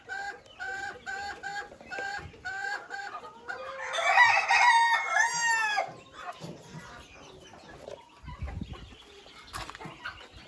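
Jumbo White chickens, a hen and a rooster, with a snowy-colored male nearby, cluck repeatedly, then a rooster crows loudly at close range, followed by softer clucks and scratchy movement.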